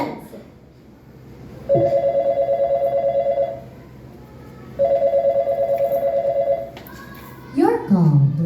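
A telephone rings on stage during a school play, two long ringing bursts with a pause between, loud and close, followed by a voice.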